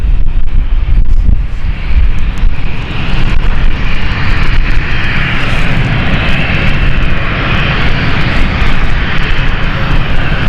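A plane on the Nuremberg flight takes off at London City airport, its jet engines roaring loud and continuous through the whole stretch, with heavy wind buffeting the microphone and no talking.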